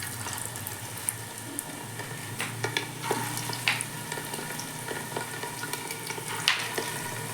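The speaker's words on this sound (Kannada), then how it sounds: "ಕೈಮಾ ಲಾಡುವನ್ನು ಒಂದೊಂದಾಗಿ ಈ ಮಣ್ಣಿನ ಪಾತ್ರೆಗೆ ಹಾಕಿ ಚೆನ್ನಾಗಿ ಹುರ್ಕೊಳ್ಬೇಕು" Mutton keema balls fry in oil inside a clay pot, giving a steady soft sizzle with scattered crackles, light clinks and stirring noises close by, and no talking.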